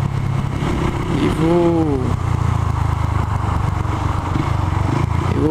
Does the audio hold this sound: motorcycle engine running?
yes